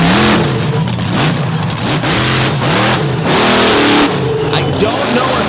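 A loud truck-pulling competition truck engine revs hard again and again, roaring up and down in pitch close by, with crowd noise beneath.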